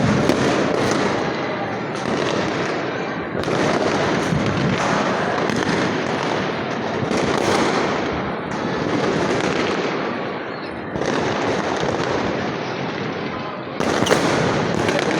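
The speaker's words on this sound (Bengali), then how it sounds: "পুরান ঢাকা জুড়ে আতসবাজি চলছে শুধু দর্শক মণ্ডলে দু হাজার পঁচিশকে স্বাগত জানিয়ে আতসবাজি চলছে" Dense, continuous fireworks over Old Dhaka on New Year's night 2025, a loud, unbroken wash of crackling bursts and pops from many directions with only brief dips in intensity.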